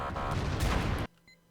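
A World of Tanks tank gun round strikes the player's tank turret without penetrating, a loud dense blast and clang lasting about a second before cutting abruptly to quiet with faint lingering tones.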